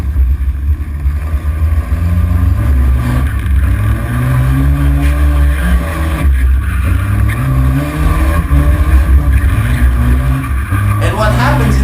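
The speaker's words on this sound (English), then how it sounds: "an old Volvo with a turbo, because you can hear turbo whistle" An old turbocharged Volvo car engine revs and shifts repeatedly on city streets, with rising and falling pitch sweeps and a thin turbo whistle over the loud, continuous motor noise.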